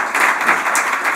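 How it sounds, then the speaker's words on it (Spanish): Audience applause at a Terralimenta 2024 food event honouring the host and winner of Spain's best sandwich at Madrid Fusión; a steady, dense wash of clapping, moderately loud and continuous throughout the brief moment. "Yo creo que merece un aplauso."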